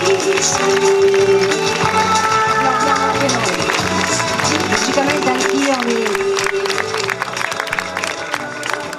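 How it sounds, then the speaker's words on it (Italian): Sustained applause from a large audience at an awards ceremony, dense and steady throughout, with music and voices mixed in underneath. "un applauso."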